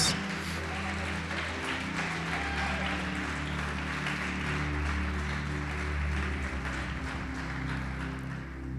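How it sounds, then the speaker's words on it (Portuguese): A church congregation applauds during a Portuguese-language sermon, a soft, steady wash of clapping under a sustained organ-like musical drone, fairly quiet and continuous throughout. "Pode aplaudir e glorificar Jesus"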